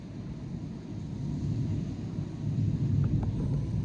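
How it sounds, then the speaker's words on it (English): Thunder rolls during a thunderstorm: a low, continuous rumble that slowly swells louder toward the end, heard with wind and no talking. "That's a storm. That's thunderstorm."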